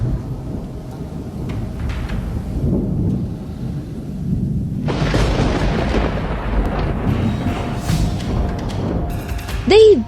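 Thunder from lightning strikes in a storm rumbles continuously and loudly, with a sharp, harsh crack partway through followed by rolling, crackling booms, and rain hissing underneath.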